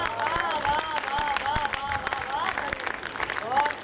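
Audience applause at a Hindi poetry recital, dense clapping running throughout as a reciting voice carries on over it, with a sharper burst near the end.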